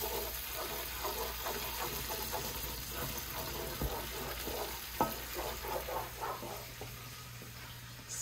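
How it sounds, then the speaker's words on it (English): Green seasoning frying in a pot as the base for a Guyanese gilbaka and snapper fish curry, giving a steady close sizzle with occasional stirring knocks and clinks throughout, no talking. "frying up my green seasoning here."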